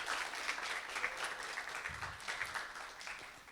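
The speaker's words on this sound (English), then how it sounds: "So if you could just give her another round of applause" A round of applause from a showcase audience honouring a presenter, a steady wash of many hands at moderate distance, fairly quiet overall and sustained throughout.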